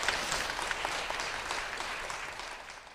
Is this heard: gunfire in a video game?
no